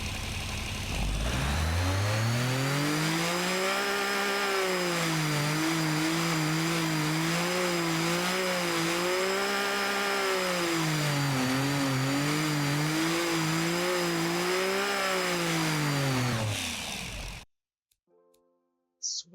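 A 2010 hot hatchback in the Automation car game, fitted with a six-speed double-clutch gearbox, starts up and revs in loud, rising and falling waves for about sixteen seconds, then cuts off abruptly.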